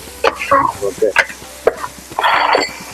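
Fish curry (chepala pulusu) ingredients with turmeric fry and get stirred in a pan, giving a steady sizzle broken by repeated scraping strokes of a spoon, close and fairly loud.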